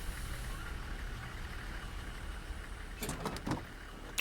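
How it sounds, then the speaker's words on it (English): The coach bus in Fernbus Simulator idles with a steady rumble, then its door closes in a short cluster of sharp pneumatic clunks and hisses near the end. "So we'll close the door."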